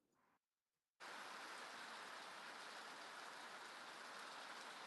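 Rain drumming steadily on a tin roof, a dense, even hiss that starts abruptly after a brief quiet moment and continues loud and unbroken with no talk over it.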